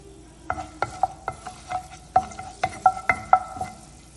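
Whole spices, a bay leaf, cinnamon stick, cloves, a cardamom pod and black stone flower, frying in hot oil for a chicken gravy, with soft sizzling and a series of close, scraping stirs and light clinks of a spoon against the pan.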